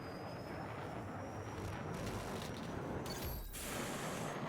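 A jet aircraft in the Battlefield 6 video game roars with a steady, loud engine wash and a sharp shift in pitch midway, dense broadband noise filling the whole stretch without speech.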